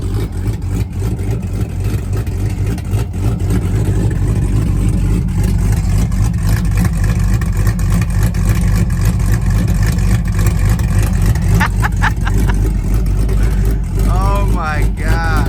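A cammed Jeep SRT8 with straight-piped exhaust idles loud and close with a lumpy, choppy rumble, revving in bursts throughout, while a person talks over it.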